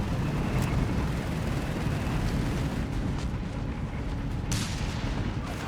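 Mortar fire in Company of Heroes 3, with dull booming impacts and sharp cracks over a constant low rumble of battlefield noise.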